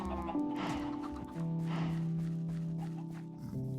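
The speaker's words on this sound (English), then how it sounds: "Good chickens." Chickens clucking on a farm, several birds calling close by in short irregular bursts over steady low background noise, with a faint human voice in the mix.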